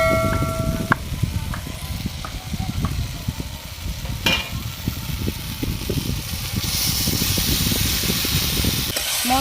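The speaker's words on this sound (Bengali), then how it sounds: "মশলা আর আলু আমি একসঙ্গে ভালো করে কষিয়ে নিচ্ছি।" Spices and pre-fried potatoes sizzle steadily in a hot pan for a Bengali catfish curry, with repeated scraping stirs and sharp clatters of the spatula cutting through the close, continuous frying hiss.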